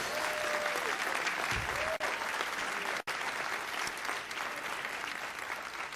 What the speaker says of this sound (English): Can you give them a huge round of applause